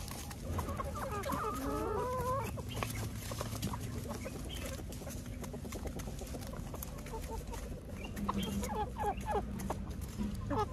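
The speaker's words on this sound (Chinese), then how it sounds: "大公鸡" A flock of chickens with a rooster clucks steadily and close by, being hand-fed, with busy overlapping calls and a few sharper squawking bursts near the start and end.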